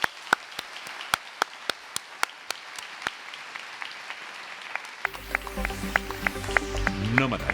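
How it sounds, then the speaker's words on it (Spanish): Live studio audience at a Radio Nacional de España travel show broadcast from a travel conference, starting with sparse individual claps that swell into fuller applause toward the end, with a music bed entering partway through. "os pedimos un buen aplauso para saludar también a los que nos escuchan por la radio"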